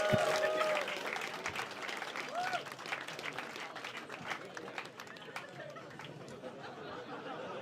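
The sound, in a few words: audience applause and cheering for comedian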